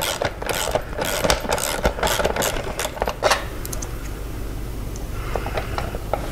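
Ratchet wrench clicking in quick bursts while loosening a 9/16 bolt from a bracket during a fairing install on a Harley-Davidson Street Bob, close and loud over a low background hum, with short pauses between runs.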